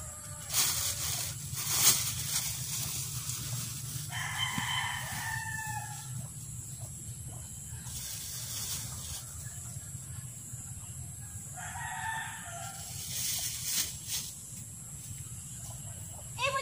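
A rooster crows twice, loud and drawn out, with a few soft clucks and quiet outdoor background between the calls.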